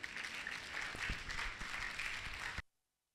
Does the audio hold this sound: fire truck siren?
no